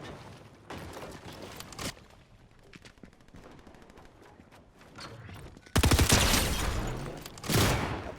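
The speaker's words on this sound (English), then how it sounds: "Shotgun." Rapid video game gunfire from a shotgun, a steady stretch of small sharp cracks followed by two louder, dense blasts near the end, heard close with no voices over it.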